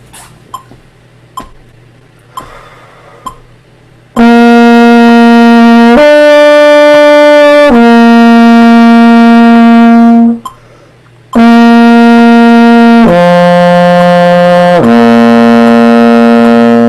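Several short tongued trombone notes, then sustained tones slurred smoothly from pitch to pitch down the slide without tonguing, loud and close, with a brief pause midway.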